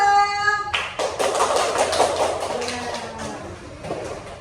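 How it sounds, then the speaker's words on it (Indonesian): A tone cuts off and a group bursts into lively applause, many hands clapping at once before it gradually thins out. "kita beri tepuk tangan untuk kelompok 2"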